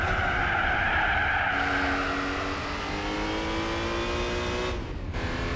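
Race car in Gran Turismo 4, loose and sliding: a steady, loud engine drone with rising and falling tones under tire squeal, heard alone without talk.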